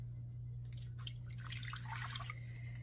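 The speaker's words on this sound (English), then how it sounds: "to that sugar, I'm going to add a cup of water" A cup of water poured onto sugar in a home kitchen comes in uneven splashing bursts over a quiet steady hum, with no voices.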